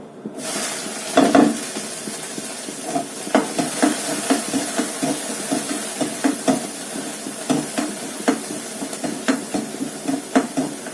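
Chopped onions fry in hot oil in a pan with a steady sizzle, while a utensil stirs and scrapes at a repeated, uneven rhythm; the sound is close and continuous, with no talking.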